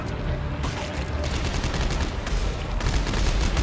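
Gunfire from the player's weapon in the sci-fi horror game Dead Space 3, a dense run of rapid shots that stays close and loud throughout, with little talk over it.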